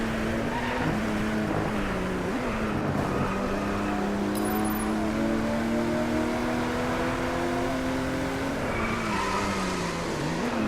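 Lamborghini engine in the racing video game Driveclub, drifting with a sustained loud roar whose pitch rises and falls as the revs change, joined by squealing tires, with no talk over it.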